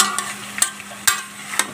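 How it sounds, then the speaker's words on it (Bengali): Rohu fish pieces marinated in turmeric, salt, chilli powder and lemon juice fry in a pan with a soft steady sizzle, punctuated by several sharp clatters and bursts as the pieces are handled and turned. "রুই মাছগুলো আমি ভেজে নিচ্ছি"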